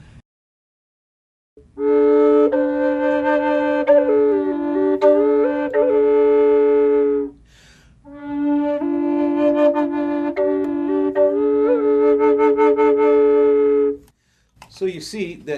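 Wooden double flute of buckeye burl plays two short breathy phrases with a steady drone-like doubled tone, close and loud, separated by a pause for breath.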